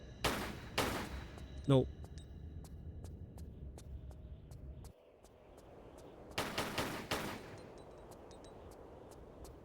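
Gunfire in the video game Tomb Raider 4: a couple of sharp shots ring out near the start, then a heavier cluster of blasts follows later over steady game ambience, with a brief spoken word in between.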